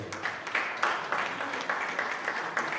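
An audience claps together in a hall in Birmingham, a steady, moderately loud patter of many hands with slight rhythmic surges and no voices over it.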